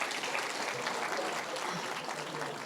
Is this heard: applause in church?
yes